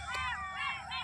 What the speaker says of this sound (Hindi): फ्रेंड्स बाहर में जो है सियार का चिल्लाने का बहुत ही आवाज़ आ रहा है